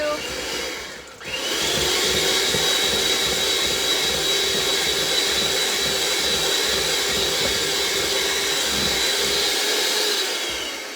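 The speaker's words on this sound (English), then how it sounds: "All right, one more pass with our mixer." Electric hand mixer whirring through banana oatmeal cookie dough, a steady loud high motor whine with a brief dip near the start, then continuous buzzing until it cuts off at the end.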